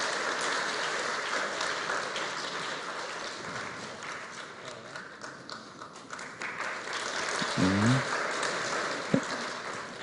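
A church congregation applauds an award recipient at a prize ceremony with a broad, rustling patter of many hands. It holds fairly steady throughout, with a brief brighter tonal sound near the end.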